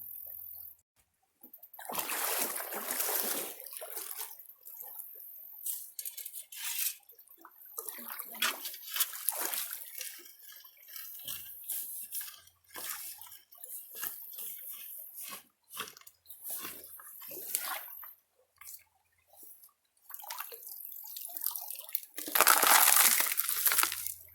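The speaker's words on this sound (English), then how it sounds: "So I'm going to do a little test pan right here and let you see what I find." Water and creek gravel slosh and swirl in a gold pan during a test pan at a Randolph County creek, with uneven washing bursts and splashes that rise and fall, growing loudest near the end.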